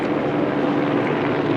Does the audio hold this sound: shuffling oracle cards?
no